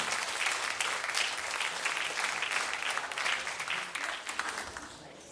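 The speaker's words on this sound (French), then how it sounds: "on peut applaudir aussi les élus, Madame la conseillère régionale et les élus de la Loupe qui sont parmi nous." Applause at a jazz concert by a wind ensemble, honoring the regional councillor and local elected officials of La Loupe; a sustained round of clapping from a hall audience, moderately distant, tapering slightly toward the end.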